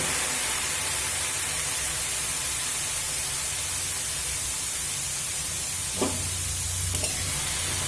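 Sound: grated carrots cooking in a pan for carrot laddu

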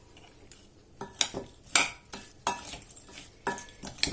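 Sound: mixing meat in marinade

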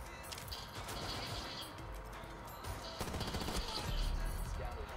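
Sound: PDW gunfire mag-dumped into a door, Rainbow Six Siege video game

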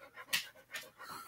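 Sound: dogs panting

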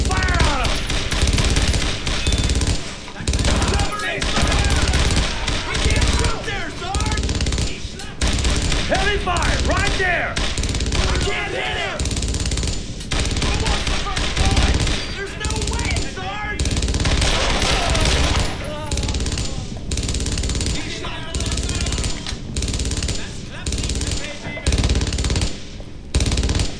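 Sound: gunfire in the video game Brothers in Arms: Road to Hill 30

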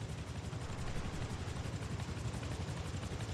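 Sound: helicopter flying overhead in video game Rust

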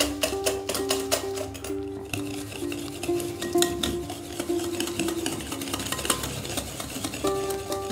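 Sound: stirring sugar into cake batter in a bowl

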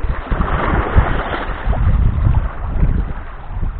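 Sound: wind

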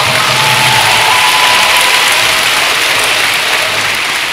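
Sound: obligatory applause after a debate

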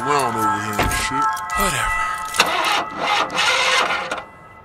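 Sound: car engine cranking and failing to start

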